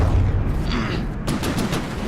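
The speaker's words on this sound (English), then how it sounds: "Simple cannons there." Simple cannons firing during a naval battle in the game From the Depths, heard as several muffled booms and rapid thuds over a steady rumble of combat noise, near and fairly loud.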